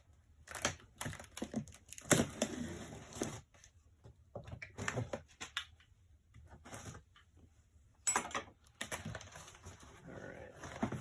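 A cardboard shipping box is slit open with bursts of scraping and crinkling in uneven clusters, fairly close, separated by quiet pauses.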